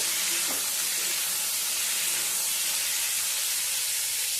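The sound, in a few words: potatoes and capsicum frying and sizzling in a pan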